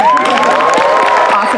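A graduation commencement crowd cheers and whoops loudly, voices shouting over clapping in a close, continuous roar for a short burst.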